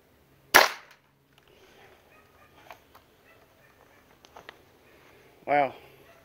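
A .22 caliber airgun pellet, about 27 foot-pounds at the muzzle, strikes a beefsteak tomato: one sharp, loud crack, then quiet clicks and a short wet burst, with a voice speaking near the end.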